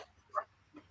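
A dog barks a few short, separate times at moderate distance, each bark brief and fairly soft against a quiet background.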